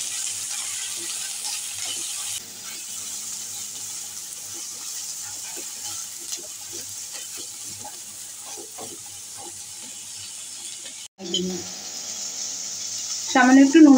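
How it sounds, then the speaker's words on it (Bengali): Onion, green chillies, ginger and a dried chilli fry in a pan with a steady, soft sizzle. A few scrapes of stirring rise out of it, a brief louder clatter comes near the end, and a short voice follows. "এবার ভালো করে ভেজে নেব।"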